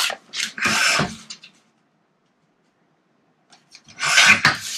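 Paper being trimmed for a Graphic 45 craft page: two bursts of rasping cutting or rubbing strokes, close and fairly loud, separated by a long silent pause.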